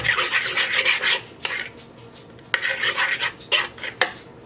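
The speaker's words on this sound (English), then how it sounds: "Mix it around." A spoon scrapes and clinks around a bowl as a lemon juice and vinegar mixture is stirred, with bright, close metallic scraping in two bursts separated by a short pause.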